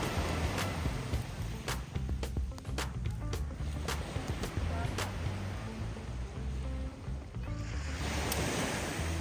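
Sea waves washing onto a beach, with a continuous surf roar and wind noise across the whole stretch, plus scattered clatter and faint background voices.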